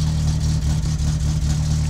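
A car engine idling with its exhaust fallen off in the game My Summer Car, a steady low, rough rumble that stays even and close throughout.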